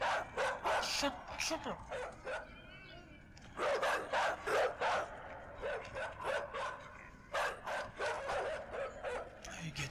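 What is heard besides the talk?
dogs barking in the video game Inside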